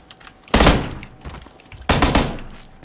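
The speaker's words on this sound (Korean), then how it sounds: "야 총소리 난다." Two loud, sharp gunshots in PlayerUnknown's Battlegrounds ring out about a second and a half apart, each with a booming tail, up close.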